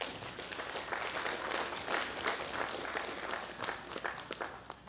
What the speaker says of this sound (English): we ought to give Jeff a big round of applause.